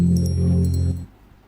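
First-boot chime of Ubuntu 24.10 running in a virtual machine, a short tonal sound with steady low harmonics and faint high blips that fades away after about a second.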